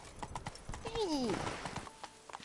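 Roach the horse's hooves clip-clop in a steady rhythm in The Witcher 3, with a clear whinny rising midway and a voice talking over the hoofbeats.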